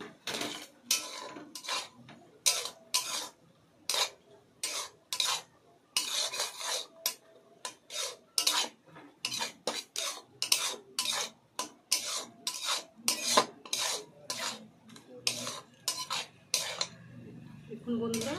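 Crushed semolina bora is stirred into sugar syrup in a pan, heard as a long series of quick, rhythmic scraping strokes of a utensil against the metal, fairly close.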